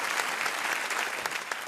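A room full of people clapping, steady and dense applause throughout with no voices rising above it.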